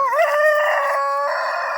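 A rooster crows once, loud and close, a sustained strained call filling the short moment with no other sound around it.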